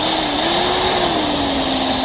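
A commercial-grade drill runs alone at a steady, loud, continuous whine with a constant motor pitch that does not change.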